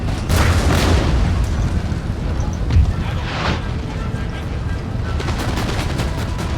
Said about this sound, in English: Some proper shooting.